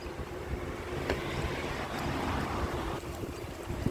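Strong gusting wind roars across an open microphone, a dense continuous rush with slight surges, heard without any talking.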